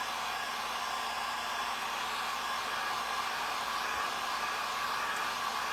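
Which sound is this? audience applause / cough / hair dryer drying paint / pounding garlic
hair dryer drying paint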